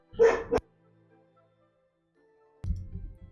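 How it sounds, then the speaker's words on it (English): Dog barking indoors, a short burst of barks up close, then a pause of near silence, followed by another loud bark with a rough rumbling tail. "freaking dog."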